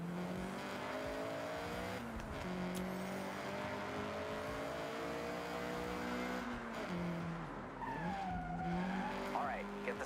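Engine noise from a Honda CRX in Forza Horizon 6, driven flat out toward a bridge, with steady harmonic tones that climb and shift through gear changes and a short screech near the end, loud and continuous.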